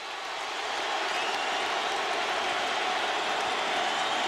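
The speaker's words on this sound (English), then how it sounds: "Now you can't tell who's booing and who's cheering. Everybody's making noise." At a 2007 college football bowl game between Auburn and Clemson, a stadium crowd keeps up a dense, distant roar of mixed booing and cheering, steady and unbroken with no clear voices.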